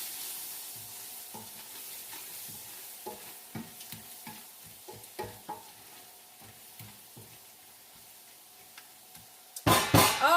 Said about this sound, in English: I'm just going to stir it around.